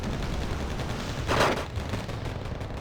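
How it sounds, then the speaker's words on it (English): Tank gunfire from a Leopard 2 in the Wargame Red Dragon video game, one short burst of fire over a steady noisy battle backdrop. "Leopard 2 trying to shoot these GBTN South Korean reservists as they just run across the open field"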